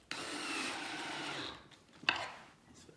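Cordless drill driving pocket screws into farmhouse corner bench panels: one sustained whirring run of about a second and a half, then a short second burst, both close and fairly quiet.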